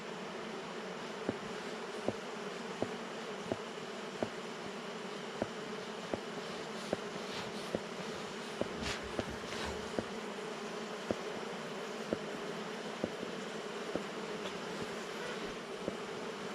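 Steady, dense buzzing of many honey bees close by during honey harvesting from hive frames, a continuous drone with faint clicks and knocks scattered through it.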